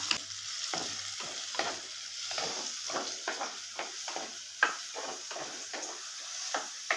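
Onion masala sautés in a pan over a medium flame, a soft steady sizzle broken by repeated scraping strokes of a spoon stirring against the pan, close and fairly quiet, with no talking.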